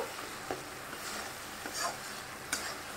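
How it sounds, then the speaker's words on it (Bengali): Spice masala being fried and stirred in a pan, a constant dense sizzle with occasional spatula scrapes and taps, close but fairly quiet. "মশলাটা এবার ভালোভাবে কষে নেব।"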